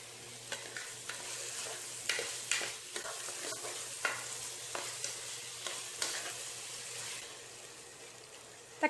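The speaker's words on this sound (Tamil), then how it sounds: "தக்காளிக்கு தேவையான உப்பு சிறிதளவு சேர்த்து வதக்கலாம்" Tomatoes sautéing with a little salt in a pan for a Tamil mutton thakkadi, giving a steady soft sizzle with repeated scraping stir strokes, no voices.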